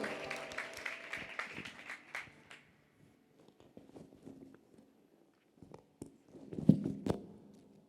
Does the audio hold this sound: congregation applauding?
yes